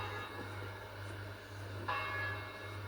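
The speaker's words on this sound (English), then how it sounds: "It's not the church bell, that's the fire hall bell." A fire hall bell rings faintly in the distance outdoors, its tones sounding softly over a low, steady background hum.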